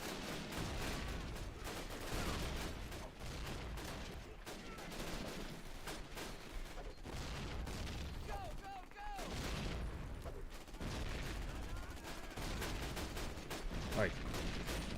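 Rapid bursts of gunfire from the video game Call of Duty crackle almost continuously, dense and fairly loud, with brief pauses, while players talk over the shooting.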